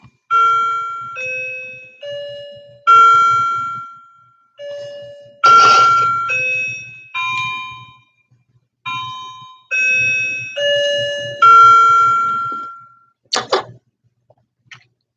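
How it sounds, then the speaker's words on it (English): A clock chimes a slow melody of clear, ringing bell tones, about a dozen notes each fading before the next, with a low steady hum underneath and no talking. "I love the sound of that clock."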